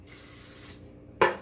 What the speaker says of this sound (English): And there we just used a little bit of spray.